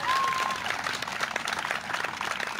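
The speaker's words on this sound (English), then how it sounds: "Quick round of applause." Crowd applause at an outdoor lockdown protest rally in Portsmouth, a steady dense wash of clapping held at an even level throughout, with a brief whistle near the start.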